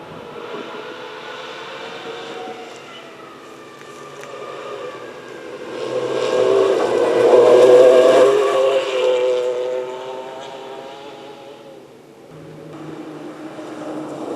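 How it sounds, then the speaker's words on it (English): A yellow Metro 6R4 Group B rally car passes at a rally stage, its engine rising from a steady drone to a loud, rich, multi-toned roar as it nears, then fading away, with no talk over it. "a classic sound from the Group B era, the yellow Metro 6R4"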